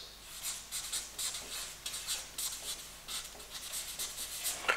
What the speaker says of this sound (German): Ich schreibe es mal aus.